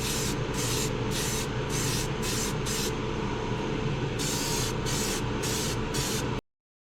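An airbrush sprays clear coat mixed with purple flakes onto a slot car body in repeated short bursts, a hissing spray over a steady compressor hum, close and even, before it cuts off abruptly near the end.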